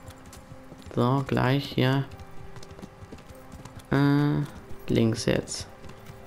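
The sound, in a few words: horse hoofbeats while riding in video game Kingdom Come Deliverance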